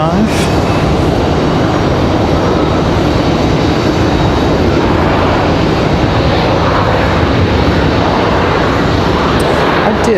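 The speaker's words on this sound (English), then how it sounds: "Smooth touchdown for the E-175" An Embraer E-175 jet touches down at an airport with a loud, steady engine roar and rushing wind noise, held at constant volume throughout.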